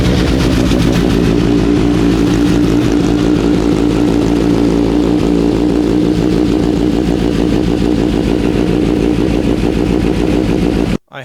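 A motorcycle fitted with a Brox exhaust runs loud and close, its engine note throbbing with a steady, pulsing rumble and slight rises in pitch for about eleven seconds before cutting off suddenly.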